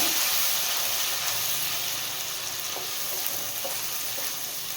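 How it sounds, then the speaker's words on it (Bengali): Spices sautéing in hot oil in a pan for a Bengali patal parshe dish, a steady loud sizzle and crackle with faint stirring scrapes, no talking. "মশলা দিয়ে দিলাম বেশ ভালো করে এবার কষিয়ে নেব"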